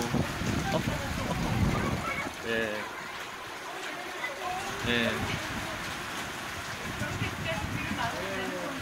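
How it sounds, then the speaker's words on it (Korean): Rain falls outdoors at a church in Australia, a steady hiss and patter spread across the whole clip while children's voices and adult talk carry over it. "이렇게 비가 오고 빗소리 들리죠?"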